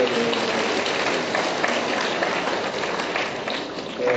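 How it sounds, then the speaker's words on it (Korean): An indoor audience at a San Jose community gathering applauds, a dense, steady patter of many hands clapping at once that holds for a few seconds without a break. "아, 박수."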